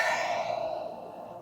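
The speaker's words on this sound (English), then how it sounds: "Exhale through the mouth." A single deep exhale through the mouth during a beginner yoga stretching routine, close and breathy, fading out over about a second.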